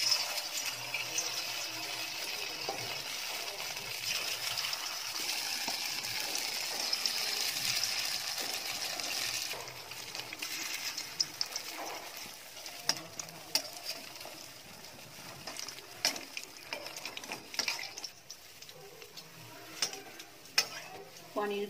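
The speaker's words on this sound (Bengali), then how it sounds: "এবার আমি পনিরগুলো ভেজে নেব।" Cubes of paneer frying in hot white oil in a kadai give a loud, steady sizzle and crackle, broken by occasional scrapes and clinks as they are stirred.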